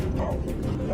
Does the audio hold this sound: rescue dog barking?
yes